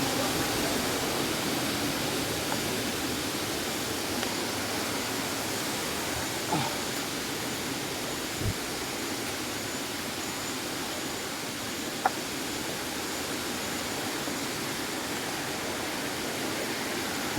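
Kilangin Falls on the Laguna side of Mount Banahaw, a steady broadband roar of falling water with drifting mist, continuous and even throughout, with only a few faint knocks and no talk.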